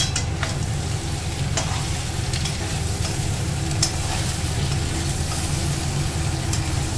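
Potatoes for a coriander potato curry sizzle steadily in a pan, with scattered scraping taps of stirring over the constant frying hiss, close and uninterrupted.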